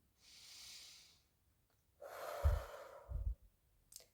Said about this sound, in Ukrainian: І ми робимо вдих, видих.